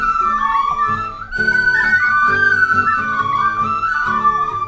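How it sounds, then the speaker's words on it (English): A group of players performs Manx music together on tin whistles, the bright, steady melody ringing out loud and continuous with no talking. "If you can play the whistle, we'll all play together the whistle"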